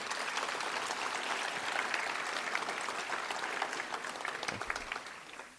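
A crowd applauds steadily, a dense wash of clapping that holds for several seconds before thinning out at the end.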